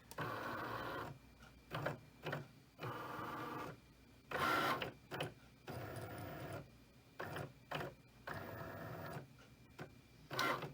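A Cricut cutting machine runs its calibration with bursts of motor whirring and carriage movement broken by short pauses and clicks, close but faint, with no talking.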